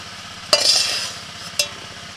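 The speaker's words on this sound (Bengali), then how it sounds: "তেলের মধ্যে ফোড়নে দিচ্ছি তেজপাতা, শুকনো লঙ্কা, 5 ফোড়ন, হিং, আদা মৌরি বাটা" Bay leaf, dried chilli, five-spice, asafoetida and ginger-fennel paste dropped into hot oil for a vegetarian Bengali dish, giving two sharp bursts of sizzling and crackling that swell and fade, the first longer, nearby in a quiet kitchen.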